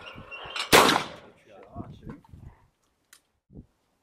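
A shotgun fires once at a clay pigeon outdoors, a loud sharp blast followed by a short decaying echo, with people talking quietly around it.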